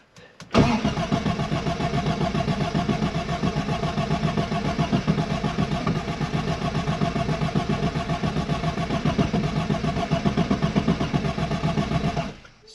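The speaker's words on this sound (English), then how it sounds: "We're going to just start it and see what happens. I'll try to start it." A fuel-injected Arden 8 Port engine cranks steadily on the starter without catching, a continuous rhythmic churning that runs for about twelve seconds, loud and close with no talking.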